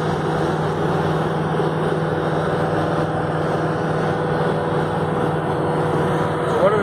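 Inside a US Army HMMWV Humvee on the highway, a loud, steady engine and road drone fills the cab without let-up, with faint rattles and mechanical noise mixed in.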